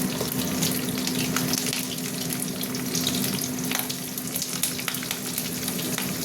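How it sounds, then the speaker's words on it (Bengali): Dried red chillies, green chillies and nigella seeds sizzle in hot mustard oil, a steady loud crackling hiss with bursts of spitting throughout and no voices. "তেল গরম হয়ে গেছে, শুকনো লঙ্কা দিয়ে দিলাম, কাঁচা লঙ্কা এবং কালো জিরে দিয়ে দিলাম।"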